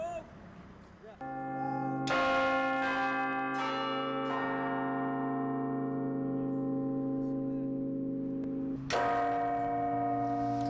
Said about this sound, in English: They are very similar to what you hear in Westminster.